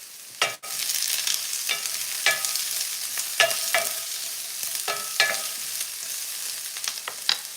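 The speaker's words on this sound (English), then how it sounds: "We're gonna hit our pan with onions and celery." Onions and celery sizzle in a hot pan, a steady frying hiss broken by sharp scrapes and taps as a utensil stirs them every second or so, close and moderately loud, with no voices.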